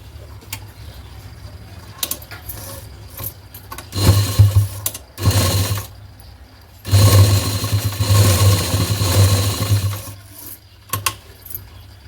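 A sewing machine stitches a fish-cut blouse sleeve in two loud, steady, close runs of fast mechanical whirring, with quieter ticks and handling clicks before, between and after.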